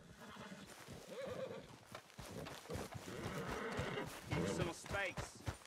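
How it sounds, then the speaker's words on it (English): A horse whinnies and its hooves clip-clop in Red Dead Redemption 2, the hooves thudding steadily and a rising whinny near the end, mixed under game sounds and someone talking. "Pretty sure my horse's name is Rachel"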